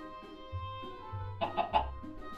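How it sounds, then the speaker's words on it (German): A few bursts of Minecraft chicken clucking, short and mid-loud, rising over a steady low hum and tonal background music, with the squawks bunched together. "Ach, gackert mich nur an"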